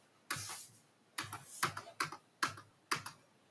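Crisp clicks of keys being struck on a computer keyboard during Tally accounting software entry, about six separate sharp presses at an uneven pace, close and quiet with no talking.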